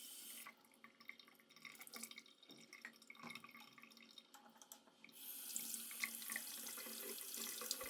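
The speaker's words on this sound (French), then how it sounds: "avec de l'eau pour enlever les traces de curcuma" Tap water runs into a sink to rinse off turmeric traces, a soft splashing flow with scattered drips, then a steadier, brighter gush in the last few seconds.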